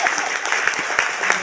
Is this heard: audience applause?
yes